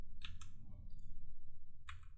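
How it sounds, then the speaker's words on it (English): Computer keyboard keys pressed during a card pack opening: a few quick, light clicks close by, two near the start and another burst near the end, over a low background hum. "I pressed the wrong button on my keyboard"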